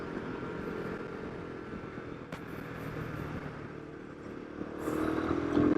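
A Himalayan 450 motorcycle ridden on a winding mountain road, its engine a steady low drone under wind rush that swells toward the end as the rider works through a downshift.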